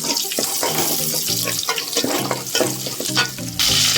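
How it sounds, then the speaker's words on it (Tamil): Finely chopped small onions frying in oil in a pan with fenugreek and fennel seeds for a fish curry, giving a steady loud sizzle with stirring scrapes throughout. "வெங்காயம் நல்லா வதங்கிடுச்சு."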